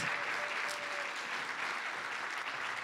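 Applause for the guests at a business presentation event, a soft, even, continuous patter of many hands clapping from a crowd, steady throughout without distinct individual claps.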